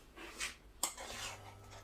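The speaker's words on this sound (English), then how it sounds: "now I'm going to spoon this into a pan" Sweetcorn fritter batter is spooned into a pan on medium heat, with a few soft scrapes and one sharper clink of the spoon against the pan, faint and close, no talking.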